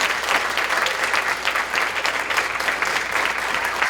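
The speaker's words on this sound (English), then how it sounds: "let's give them a big round of applause for that" Sustained audience applause fills an awards ceremony hall, a dense steady patter of many hands clapping at close range with no pauses.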